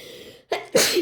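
A single loud, close sneeze, a brief inhale followed by a sharp burst, with no talking.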